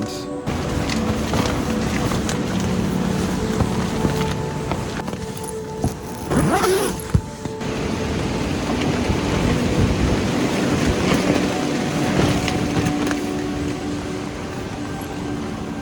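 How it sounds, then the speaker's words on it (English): Steady broadband roar of wind gusting through a giant strangler fig tree at night, continuous throughout with a brief lull midway, no voices. "the rain was replaced by the wind, so now we have the wind"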